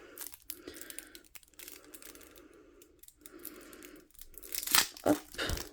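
Plastic packaging with a double layer of plastic and bubble wrap is torn and crinkled open close by, in bursts of rustling with short pauses, ending in a few sharper tears; no talking.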